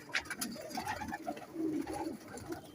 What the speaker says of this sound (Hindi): बहुत अच्छा टैडी कबूतर है ये